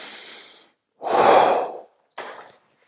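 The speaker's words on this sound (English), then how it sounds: "I'm going to be hanging and then breathing." A person breathing while hanging from a bar: a short exhale, a pause, then a long loud breath out, followed by a quicker breath, close and isolated with silent gaps.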